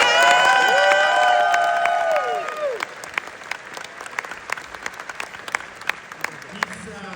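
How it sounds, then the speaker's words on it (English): Applause from an audience in a cinema after a screening of a 35mm archive film print, a steady wash of clapping under tonal sound at first, then thinning into scattered individual claps. "if we could give a round of applause to Jeff Root"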